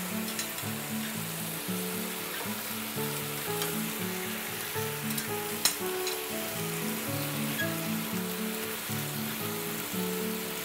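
Pork ribs fry in fish sauce and sugar, a constant crackling sizzle running beneath background music, with one brief sharp pop midway.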